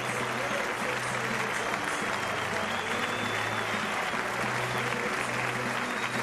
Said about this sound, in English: you see the crowd appreciative of Java's effort for the day